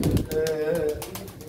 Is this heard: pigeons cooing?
yes